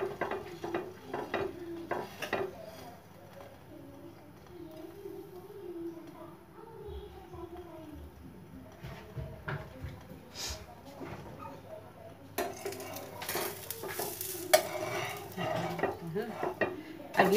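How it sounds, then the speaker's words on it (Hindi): A sandwich toasts in oil on a pan, with a soft low sizzle, scattered clinks of a spatula against the pan, and a louder clattering stretch near the end as it is flipped and handled; a voice is faintly present. "मगर मैं तो ऑयल लगा रही हूँ इसमें। अब इसको देखिए हम इसको पलट लेते हैं"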